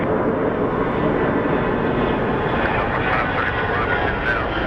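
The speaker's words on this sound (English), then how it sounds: "next plane is going to be an A321 headed to Puerto Vallarta" An Airbus A321 airliner departs Phoenix Sky Harbor with a loud, steady broadband engine roar filling the air, close and continuous throughout.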